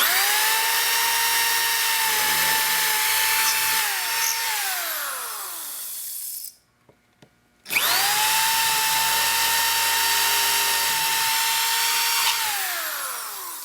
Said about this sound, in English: So just keep your drill nice and straight.